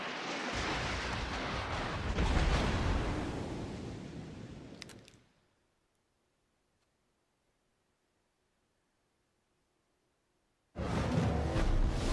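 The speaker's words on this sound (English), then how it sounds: "He fires some secondary batteries at me" Heavy secondary battery guns firing from a warship in World of Warships, a loud dense roar of booming blasts over several seconds that cuts off into near silence before another burst erupts.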